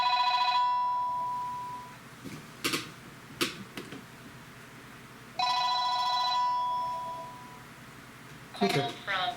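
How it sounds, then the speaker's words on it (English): Home landline telephone rings in two electronic bursts, roughly a second each and a few seconds apart, with faint room sounds and clicks between them. "I'm going to try my house phone."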